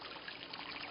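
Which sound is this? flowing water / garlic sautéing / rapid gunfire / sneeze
flowing water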